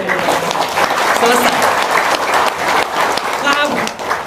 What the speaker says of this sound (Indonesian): Kurang semangat tepuk tangannya.